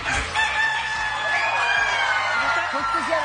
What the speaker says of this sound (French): J'ai entendu le coq chanter